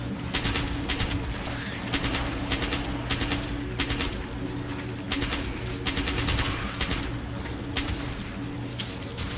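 Repeated bursts of automatic gunfire from the online game Fallout 76, loud and close, with rapid shots in clusters over a steady background hum and no talking.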